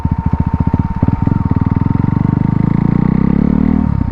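A KTM RC 390 motorcycle running without an exhaust, a loud close rapid engine clatter that rises steadily in pitch as it revs up and then drops off near the end.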